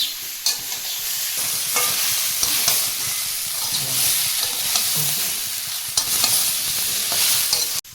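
Vegetables for a catfish and snakehead curry with eggplant, potato and drumsticks sauté in a pan, a steady close frying hiss with occasional sharp scrapes of stirring and no talk.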